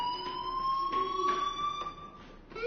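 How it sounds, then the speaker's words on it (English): A fire alarm rings in the Life is Strange video game, a steady electronic tone with harmonics pulsing in a fast repeating pattern, loud and continuous throughout with no talk. "Hey, do you hear that fire alarm? That means you should be outside."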